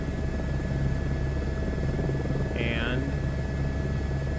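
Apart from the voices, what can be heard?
H125 helicopter flying in a flight simulator video game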